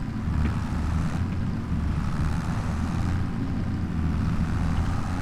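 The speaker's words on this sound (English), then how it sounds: "Now let's get this tractor back to the farm and work on it." A tractor engine drones steadily in Farming Simulator 25, a constant low rumble with no talking over it.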